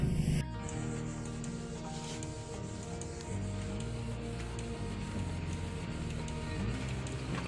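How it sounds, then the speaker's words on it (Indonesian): A standard Canon printer runs through a print job with a steady mechanical whirring and humming drone, broken by a brief change in pitch partway through. "Proses pencetakannya di printer Canon biasa."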